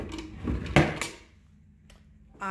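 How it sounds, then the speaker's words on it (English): Wooden dresser drawers slide and knock shut in a quick sequence of close, scraping and thudding strokes, followed by a quieter pause and a final short slide. "The drawers slide like a dream."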